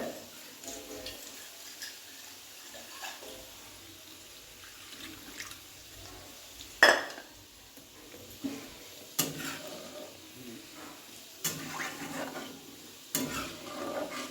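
Dal and water poured into a cooking pot and stirred, with close scraping and splashing knocks in irregular bursts over a soft, steady watery background.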